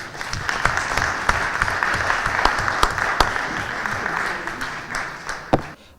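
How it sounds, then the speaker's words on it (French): Audience applause at an event in Geneva, a dense steady wash of clapping with a few sharper individual claps standing out, sustained throughout and tapering slightly at the very end. "Boosté par cette salve d'applaudissements"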